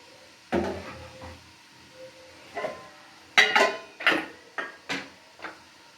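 Chicken pieces go into a pot for Thai soup, making a series of separate knocks and clatters against the pot, scattered and fairly faint over a quiet kitchen background.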